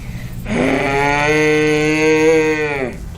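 A cow in Wisconsin lets out one long, drawn-out moo lasting about three seconds, loud and close, with a steady tone and no other sounds around it.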